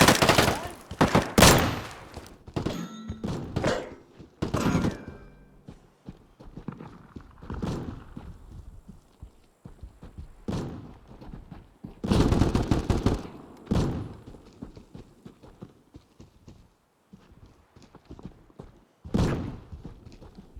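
Gunfire in the survival shooter Deadside: rapid bursts of loud shots in clusters, some close and sharp, others more distant, broken by quieter gaps and footstep-like movement.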